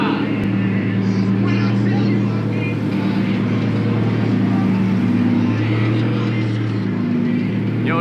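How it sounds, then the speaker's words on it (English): A loud, steady engine rumble drones close by throughout, deep and constant, with some faint voices beneath it. "car is loud as shit"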